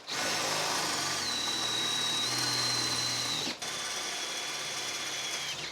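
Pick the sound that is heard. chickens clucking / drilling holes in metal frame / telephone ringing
drilling holes in metal frame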